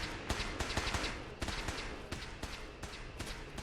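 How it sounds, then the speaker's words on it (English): Rapid bursts of Fallout 4 video game gunfire crackle repeatedly in quick succession, sharp and somewhat distant, over a busy rumbling background. "But were there actual gunshots just then"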